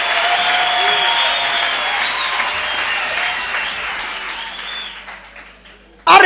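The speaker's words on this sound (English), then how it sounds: "Clap for this woman." A church congregation claps for a woman's testimony in a sustained round of applause with voices and tones running beneath it; the clapping thins out over several seconds before a sudden loud burst right at the end.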